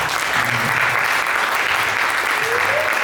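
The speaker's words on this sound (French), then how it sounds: "Sous vos acclamations, s'il vous plaît." An audience at a book-signing conference in Yaoundé breaks into steady, dense applause that holds at full volume throughout, with a voice faintly audible underneath.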